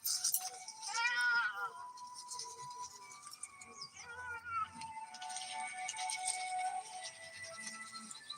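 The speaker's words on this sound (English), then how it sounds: "Cute cat. I love that little cat." A small cat meows repeatedly in a few drawn-out, wavering calls, close and fairly clear, with faint background noise in between.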